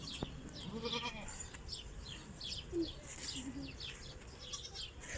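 Goats bleating repeatedly at close to middle distance, with birds chirping and faint distant voices in the background.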